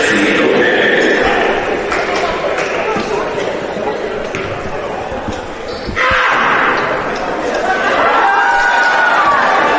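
A steady crowd din fills the arena at a university basketball game, Brock visiting Ontario Tech, with chatter and cheering swelling and dipping around a free-throw attempt, and voices mixed into the noise.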